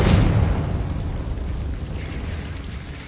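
A Confringo blast spell cast in Hogwarts Legacy, a loud deep explosive boom that hits at once and then rolls into a long rumbling decay with no voices.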